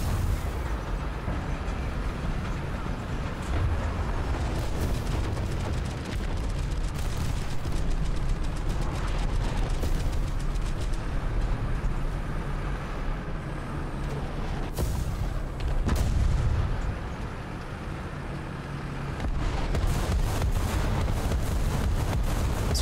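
Heavy artillery and gunfire in War Thunder, fighting involving the Finnish ZSU-57-2 anti-aircraft tank: continuous loud rumbling battle noise with repeated booming impacts and bursts, dense and close throughout, no talk.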